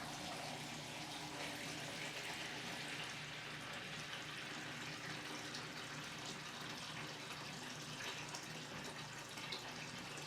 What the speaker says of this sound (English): Put the hose in one end, and then you siphon out the other.